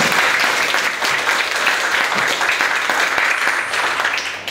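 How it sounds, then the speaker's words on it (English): A room of listeners claps steadily through a talk on the keys to happiness, a dense, even wash of handclaps that stays loud from start to finish with no voices over it. "A round of applause."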